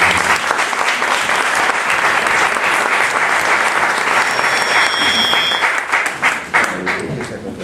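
Audience applause for a speaker introduced at a talk on the myth of Cortés, a dense, steady roomful of clapping that holds strong before tapering off near the end.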